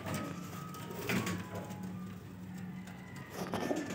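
Young golden Kamagar pigeons coo in low, soft murmurs that carry through the clip under a steady room hum, with a few louder swells near the start and end.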